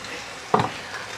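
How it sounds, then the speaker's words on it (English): Green chillies tossed into a hot pan for a pea and potato curry give a single sharp sizzling burst that quickly fades, heard close and on its own. "what I'm going to do is I'm going to throw in the green chillies"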